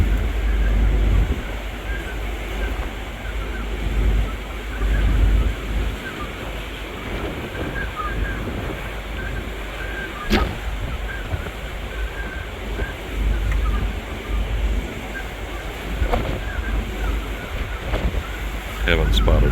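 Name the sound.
wind and waves at sea during Norway cruise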